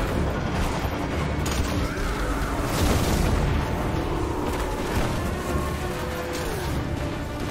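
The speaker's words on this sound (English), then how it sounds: "throwing grenade at the first one." Grenade explosion in the video game Destiny, a heavy boom within loud, dense battle noise that rumbles on continuously around it.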